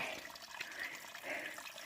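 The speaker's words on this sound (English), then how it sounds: "See, this is a spring, and then they piped it." Steady rush of water pouring from a pipe fed by a mountain spring along the Appalachian Trail, continuous and fairly close, with no talking.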